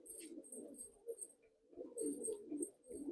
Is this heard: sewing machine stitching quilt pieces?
no